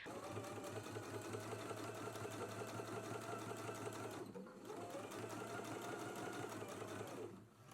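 A sewing machine runs steadily, top stitching a pocket onto pants, its fast even needle chatter continuing near and loud, pausing briefly midway and easing off just before the end.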